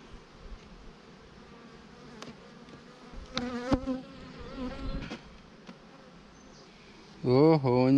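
Honeybees drone in a steady, close hum while a hive is opened during a spring colony inspection, with occasional louder passes near the end and brief murmured speech.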